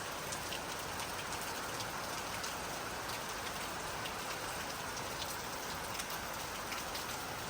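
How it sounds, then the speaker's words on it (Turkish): Steady, dense rain falls outside a village house, a constant even hiss of drops on surfaces with no breaks and no voices. "yağmur yağıyor, çok güzel"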